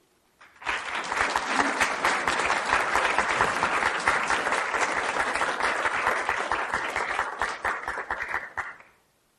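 Sustained audience applause at a newspaper archive summit welcoming a keynote speaker, a dense, steady crowd of clapping that swells quickly, holds for several seconds and then tapers off.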